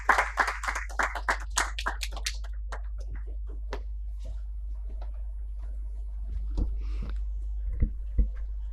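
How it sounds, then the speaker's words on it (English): An audience at a nutraceuticals summit claps in a dense burst of applause that quickly thins to scattered claps, over a steady low hum. "Let's welcome him with a warm round of applause."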